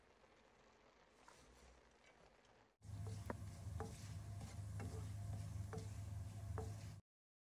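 Amaranth stem greens (data shak) cooking in a pan: a steady loud sizzle starts abruptly and runs alone for several seconds, with faint ticking clicks over it, then cuts off.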